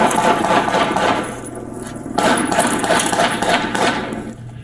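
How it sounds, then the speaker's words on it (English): Gunfire pops at a distance during a police shooting incident in Phoenix, amid constant noisy background, a few sharp reports scattered over several seconds rather than a steady rhythm. "All of the gunshots that can be heard at this time are from the suspect."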